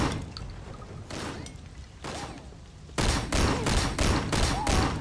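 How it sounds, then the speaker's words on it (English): Gunfire from a bunch of enemies in a big shootout in the video game Sleeping Dogs, first scattered and muffled, then turning into rapid, loud bursts of shots in quick succession through the second half. "we're doing a giant encounter where a bunch of people are shooting at me"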